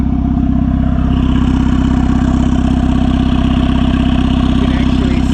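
A turbocharged Honda Civic engine running at a steady idle, a loud, even low rumble that continues unchanged throughout with no talking.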